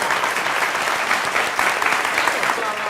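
A crowd at an Indian political speech bursts into dense, continuous applause that stays loud and even throughout.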